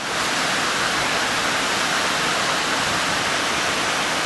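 A mountain waterfall on a hot summer day roars steadily and loudly from close by, a dense unbroken rush of falling water with no other sounds over it.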